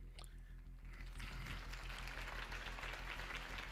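Applause from a crowd in the Batman Telltale video game swells into a steady wash of clapping, with a low rhythmic thumping underneath.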